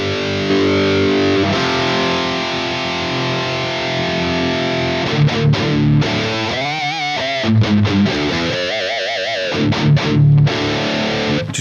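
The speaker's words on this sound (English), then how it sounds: "Then the 800. That 800 bite, and then both." Distorted electric guitar played through two amplifiers at once, one a Marshall-style 800 head, heard as sustained crunchy chords and then choppier riffing, loud and up front with no talking.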